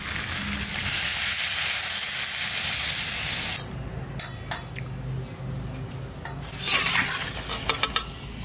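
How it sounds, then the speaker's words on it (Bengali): Water poured into a pan of sautéed potatoes for Kashmiri aloo dum, a loud, close burst of hissing sizzle for several seconds that settles into quieter bubbling with a few clinks and spatters. "এবার আমি যে বাটিটার মধ্যে আলুটা মেখেছিলাম বাটিটার মধ্যে জল নিয়ে আমি জল দিয়ে দিচ্ছি"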